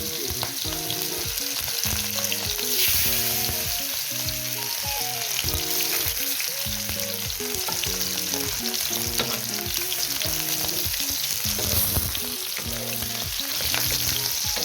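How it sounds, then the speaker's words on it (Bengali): Food sizzles and pops in hot oil during Sylheti cooking, a loud, dense crackling hiss that runs steadily throughout, with a repeating tonal melody underneath. "ওয়াও কি একটা বেলকি মারলো তেলে"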